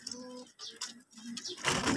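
Pigeons coo in a short run of soft, throaty calls, close by and fairly quiet, ending in a brief burst of rustling noise.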